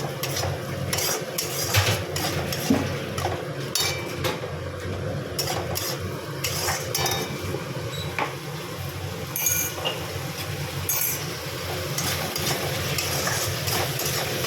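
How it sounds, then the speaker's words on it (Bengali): Spice paste stirred and fried in a pan for a fish-head and cabbage dish, busy metallic scraping and clinking of a spoon against the pan over a constant low sizzle, close and without talk. "এই মশলাটা ভালো করে একটু ভেজে নেব।"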